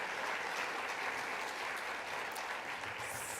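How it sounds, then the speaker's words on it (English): Sustained applause from a crowd at a university address, a dense steady patter of clapping that carries evenly for a few seconds with no talking over it. "let's give a round of applause for Andy."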